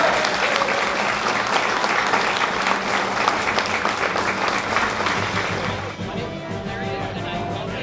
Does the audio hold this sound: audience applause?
yes